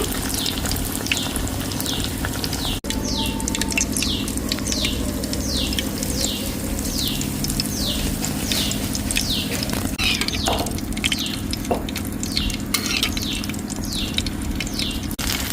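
Fish rava fry is sizzling in a pan of hot oil, giving a steady bubbling crackle that runs throughout. Irregular louder spits and pops come up close, with no talk over it.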